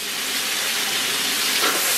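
Pork stir-fried in a wok with Pixian bean paste as soy sauce goes in, giving a loud, steady sizzle and hiss of frying that carries on evenly with no talking.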